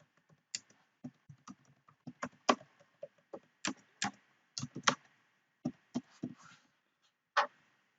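Keys click one by one on a computer keyboard as a password is typed, giving sparse, irregular, close taps and a quiet room between them.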